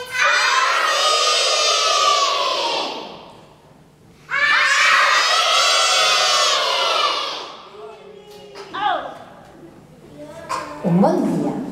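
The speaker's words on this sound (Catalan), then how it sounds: "Nens, que m'ajudeu. Crideu ben fort." A crowd of young children at a school play shouts loudly in unison, two long sustained cries for help, followed by scattered individual shouts and chatter.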